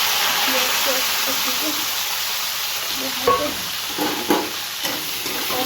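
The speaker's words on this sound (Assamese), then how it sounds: "মাছ ভাজি আকৌ ফুলকবি ফ্ৰাই কৰি দিলোঁ" Fish and cauliflower sizzling in a hot wok, a steady crackling hiss with a few clanks of stirring toward the end.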